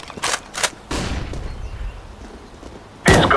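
Sharp, loud bursts from a Counter-Strike mobile match on the Inferno map, two quick pops early, then a longer blast and a final loud burst, like a flashbang grenade going off amid gunfire.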